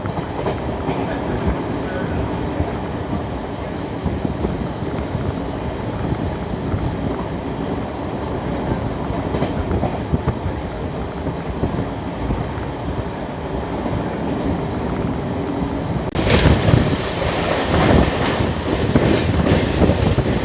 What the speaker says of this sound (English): We are crossing the Madurai Kannur passenger, or rather the intercity.